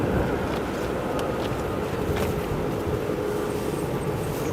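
A jet aircraft arriving at O'Hare International Airport produces a steady, broad engine roar with low rumble and wind-like noise throughout, fairly loud and continuous without talking.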